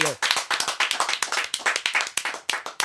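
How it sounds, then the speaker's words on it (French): Rhythmic clapping from a small group on a French broadcast show, sharp distinct claps at a quick, fairly even pace, close and clear with no voices. "on va déjà l'applaudir"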